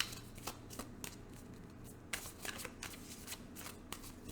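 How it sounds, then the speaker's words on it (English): Close, crisp riffling and flicking of a deck of tarot cards being shuffled, in several quick bursts over a quiet background. "2 more shuffles off the top of the deck."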